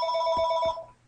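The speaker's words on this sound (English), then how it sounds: "oops, there's my phone" A telephone rings indoors with a bright, steady electronic bell tone, clear and moderately loud, cutting off abruptly after about three quarters of a second.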